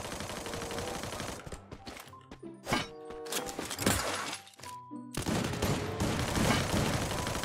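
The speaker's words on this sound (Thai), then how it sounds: "มันยิงกันข้างบนข้างล่างทุกคน" Gunfire in the battle game Free Fire: dense overlapping bursts and rapid volleys, loud and close, with sharp single shots and brief lulls around the middle before the shooting resumes thickly.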